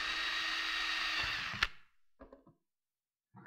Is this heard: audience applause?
no